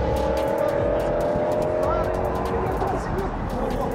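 A BMW with an older M62 V8 engine launches hard from a standing start, a loud close engine roar with squealing tires filling the moment while people talk over it.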